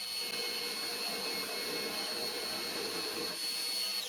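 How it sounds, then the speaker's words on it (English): A milling cutter facing a metal part down to size makes a steady, loud machining whine with a high ringing tone that holds without break, no voices. "get that chuck out of there and put a milling cutter in and face this thing down to size"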